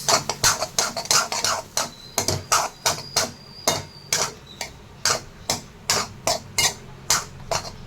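A spatula clacks rapidly and repeatedly against a pan as fried rice is mixed, a fast steady run of sharp scraping knocks close by, with no talking.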